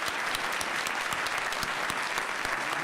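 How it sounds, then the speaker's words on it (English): An audience at a Supreme Court term review panel event applauds the panelists, dense steady clapping from a sizable crowd held at an even, fairly loud level throughout. "I would like to end with some applause for our great panelists today."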